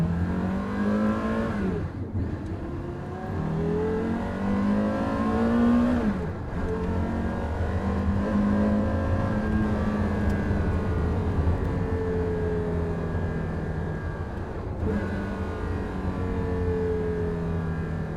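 Porsche Carrera GT engine revving hard on the road, loud and close, climbing through several gears with rising pitch and brief dips at each shift.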